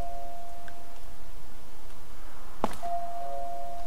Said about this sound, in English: it's a stupid doorbell